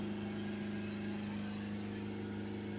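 A Mercedes E-Class 2.1 CDi diesel engine is held steady at about 3000 RPM, giving a constant droning hum with strong low tones. The car has a soot-laden particle filter fault. The note is continuous, with no voices.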